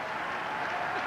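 A ballpark crowd at Shea Stadium applauds a pigeon during a 1998 Rockies–Mets game, a steady broadband wash of distant clapping and cheering that holds evenly through the brief moment.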